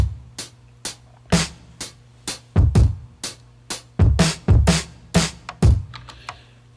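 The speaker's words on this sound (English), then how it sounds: "The Addicted Drums sound really real, and I like that. And then the More Slap Kit is just, beefed up a little bit." Layered drum beat built from Addicted Drums and More Slap Kit samples: punchy low kicks and crisp snapping hits in a steady, syncopated pattern, loud and upfront with no voices.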